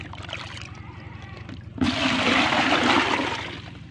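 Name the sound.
scooping water from a Daphnia breeding tank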